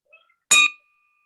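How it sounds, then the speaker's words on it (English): A single bell struck once at an indoor meeting, a bright metallic ring with a sharp onset and a pure tone that lingers faintly, preceded by a soft tap. "So I'm ringing the bell for her in memory of her today."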